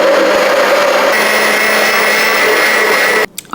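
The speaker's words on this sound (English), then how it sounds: "we want to use a nice, slow, thin stream while the immersion blender is going." An immersion blender whirs at high speed in hollandaise sauce as hot butter is drizzled in, a loud, close, steady motor whine that cuts off abruptly near the end, no talking.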